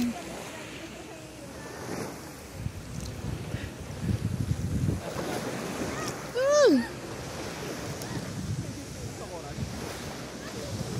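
Ocean waves wash and surge nearby at an island beach, with wind buffeting the microphone, and a brief high whistle-like cry cuts through partway.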